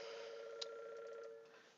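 A telephone rings inside the Farming Simulator 2015 video game, giving a single continuous electronic trill that is soft and steady, then fades away near the end.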